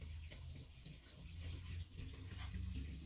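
Running tap water splashes steadily over vegetables being washed in a kitchen sink, a continuous close, moderately loud gush with no talking.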